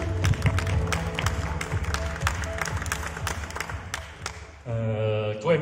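Scattered clapping from an audience at a press conference, moderately loud and fairly close, fading out after about four seconds into a quieter room tone.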